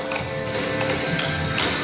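Clogging steps from a beginner line dance tap steadily on the floor, a dense run of quick, loud percussive taps with a clap-like accent at the end, with no voices.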